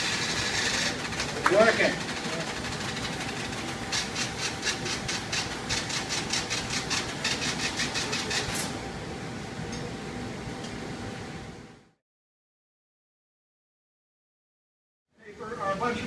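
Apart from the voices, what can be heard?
IBM 1401 computer card reader reading punched cards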